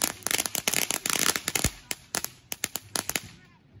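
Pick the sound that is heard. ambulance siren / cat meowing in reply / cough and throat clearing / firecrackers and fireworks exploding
firecrackers and fireworks exploding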